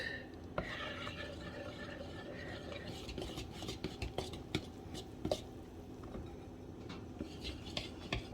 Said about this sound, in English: Now I'm going to stir the dry ingredients into the wet.